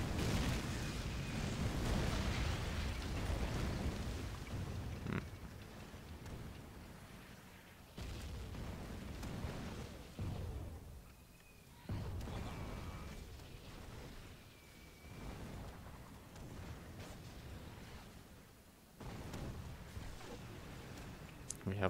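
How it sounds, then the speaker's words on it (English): Mortar pits and a mortar-armed vehicle trade artillery fire in the real-time strategy game Rise of the Reds, giving repeated booming impacts and blasts over a dense battle din while a commentator talks throughout. "Have some bombardment with mortar pits and being answered to by a vehicle dig out with a mortar track."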